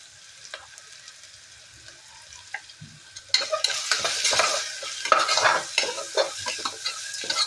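Pavta beans and rice roasting in a pan with turmeric, first a quiet low sizzle with scattered spoon scrapes, then a louder, busier frying hiss with frequent stirring clinks and scrapes.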